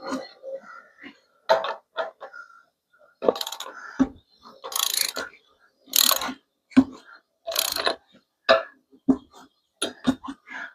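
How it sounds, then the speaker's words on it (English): Torque wrench ratcheting on a 2005 Ford E150 during brake caliper and bearing work, close bursts of rapid clicking in uneven spurts with short pauses between. "Get the torque wrench."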